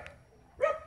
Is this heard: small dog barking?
yes